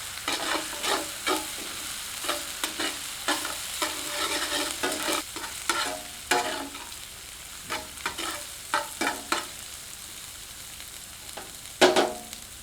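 Ginger garlic paste stirred and fried over medium heat for chilli paneer: soft sizzling under irregular scraping strokes of a spoon against the pan, faint and close, with no voices.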